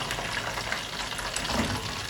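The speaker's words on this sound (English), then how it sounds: "fry it very well, so that even after I put it inside stew, it will retain that crunchiness" Continuous crackling sizzle of beef frying in hot oil, steady and fairly loud throughout, with no talking.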